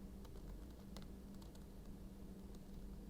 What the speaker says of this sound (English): Let's type in the description, ripe for the picking.